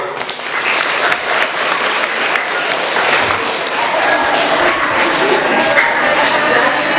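A school audience at a junior high student council debate bursts into loud, sustained applause for a candidate, a dense crowd roar of clapping holding steady from start to finish.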